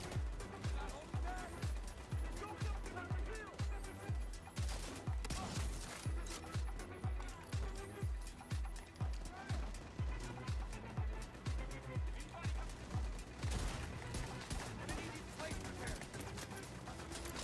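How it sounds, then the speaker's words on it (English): Turret fire in The Division 2 shooter game pounds in regular rapid bursts of heavy shots throughout, steady and rhythmic, with a player talking over the action. "Love that that turret is wailing on me from very far away."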